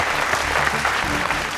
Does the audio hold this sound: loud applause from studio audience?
yes